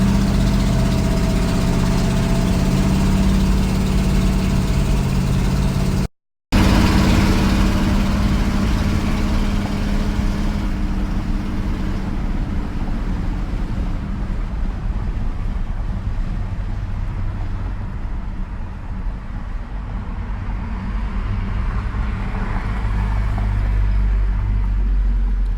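A 1971 Chevy C20 Custom 4x4 long box pickup drives along with its engine running, a steady low rumble mixed with wind buffeting. The sound cuts out for a moment early on, and no one speaks.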